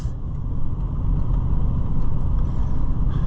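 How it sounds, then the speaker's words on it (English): Tires roll steadily over pavement, a continuous low road rumble and hum from inside a moving 2016 Ford Super Duty after a wheel bearing repair, with no whirring and no talking. "I hear the tires a little on the road like you should"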